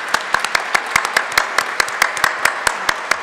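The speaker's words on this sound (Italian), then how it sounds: "Un applauso." A small audience claps at a lecture on archaeological excavations, a handful of distinct, sharp hand claps in a loose rhythm, close and fairly loud with no talking.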